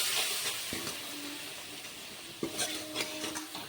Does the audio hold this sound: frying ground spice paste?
yes